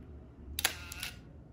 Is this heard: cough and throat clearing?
no